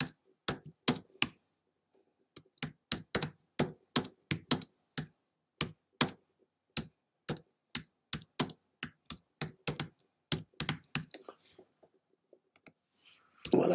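Someone typing code on a computer keyboard, with crisp close key clicks in irregular bursts separated by short pauses, loud against a near-silent background, no talking.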